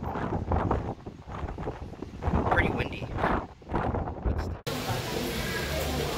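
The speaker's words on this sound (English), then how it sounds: "It is very windy." Strong wind buffets the microphone at a Maldives beach resort in rainy weather. Gusty rumbling sits under a person talking, then a sudden thump gives way to a steadier windy hiss.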